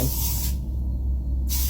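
A can of Lysol disinfectant spray gives one close hiss, then a brief gap and another hiss, over a steady low background hum.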